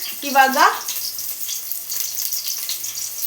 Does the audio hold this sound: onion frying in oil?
yes